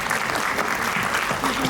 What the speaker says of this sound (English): We must really give a big clap to those